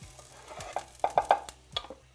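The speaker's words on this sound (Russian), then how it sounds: "Перемешиваю и обжариваю до мягкости" Diced onion is stirred in a frying pan with vegetable oil, giving a few scraping knocks of the utensil over a soft, low sizzle, close and brief.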